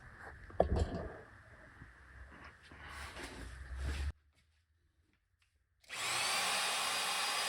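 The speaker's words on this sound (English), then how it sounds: "then I'll turn the oil pump and pump oil up to the rockers" A power drill turns the oil pump on a Ford 302 engine, whirring steadily up close, stopping abruptly for a silent pause, then starting again at a higher, smoother whine.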